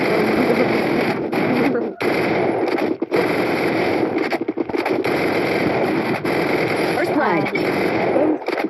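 Gunfire rattles in a shooter video game, dense bursts of shots with short gaps, loud and continuous throughout, with a voice talking over it.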